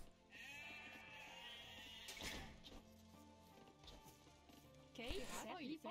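Sheep bleating in the Age of Empires II video game, a wavering tonal bleat near the start and another warbling bleat near the end over a steady game soundscape with clicks and thuds.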